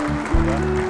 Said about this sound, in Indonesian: sekali lagi kita beri tepuk tangan yang lebih meriah lagi untuk para penerima penghargaan